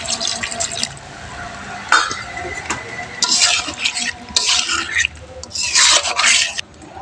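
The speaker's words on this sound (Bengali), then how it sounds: "এখন দিয়ে দেব পরিমাণ মতো জল" Water poured into a pan of cooking kochur loti (taro stolon) curry, heard as splashing, sizzling and pouring surges alongside scraping and stirring in the pan, fairly close and fairly loud, with no talking.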